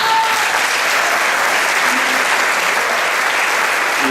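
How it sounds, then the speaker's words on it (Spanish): Steady, loud applause from an audience at a yoga and martial arts event in Oaxtepec, greeting a book presentation; dense clapping fills the full stretch without pause, with faint voices mixed in. "Un aplauso."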